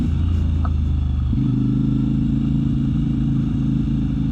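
A CFMOTO 450 MT motorcycle with a 15T and 45T sprocket setup rides in second gear on a gravel road, its engine droning loud and steady close by, shifting pitch once early on.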